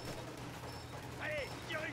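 Machine gun fire in the World War II strategy game Company of Heroes 2, a dense rattling burst under a low battlefield rumble, heard briefly with game effects layered on top.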